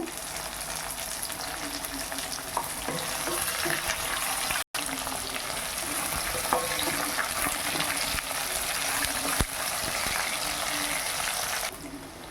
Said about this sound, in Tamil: கத்திரிக்காய் பாதி வதங்கிருச்சுங்க